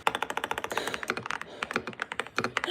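Fingers type rapidly on a computer keyboard during a typing game. The keys click close and crisp in quick rhythmic bursts, with a brief pause in the middle.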